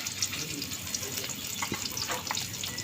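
Raw spice paste hitting hot oil in a wok for lentil dal with mixed fish, a loud close sizzle with bursts of spatter and stirring, heard alone.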